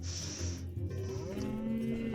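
A cow moos in a video game, one long low bellow that fills the clip over a steady game background, with no talking.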